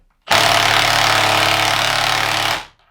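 A Milwaukee M18 Fuel 1/2-inch mid-torque impact wrench with friction ring hammering in one loud, continuous burst of about two seconds, starting abruptly and cutting off with a short wind-down.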